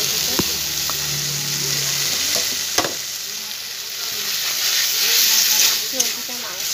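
Mutton fat frying with a turmeric spice paste in a pan, a steady close sizzle and hiss with stirring scrapes and a few sharp clinks throughout.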